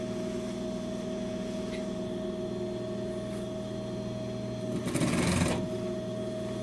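A sewing machine stitches a jacket sleeve lining with a steady mechanical hum and a short, louder burst of rapid stitching near the end.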